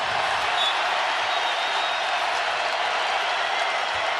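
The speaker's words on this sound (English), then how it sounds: "Cyclones fans making some noise." Iowa State Cyclones fans at a college men's basketball quarterfinal against Kansas State at T-Mobile Center, a steady wash of applause and crowd noise heard at a distance, even and unbroken.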